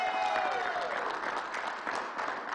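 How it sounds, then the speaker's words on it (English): A round of applause from a crowd at a Queens public event for Congressman Gregory Meeks, dense steady clapping throughout. "Let's give the new grandfather a bigger round of applause."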